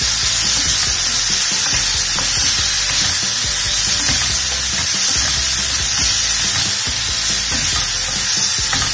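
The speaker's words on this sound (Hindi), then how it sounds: "गोल्डन ब्राउन नहीं करना है, सिर्फ हल्का सा सोटे करना है घी में" Paneer sautés lightly in ghee with a loud, dense, continuous sizzle and hiss, very close throughout, broken only by faint stirring scrapes and no voices.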